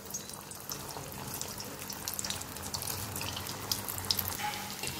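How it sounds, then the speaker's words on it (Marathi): Potato balls fry in hot oil, giving a steady, even sizzle with fine crackles throughout, close and moderately loud with no talking. "आता हे आपण गरम तेलात तळून घेऊया।"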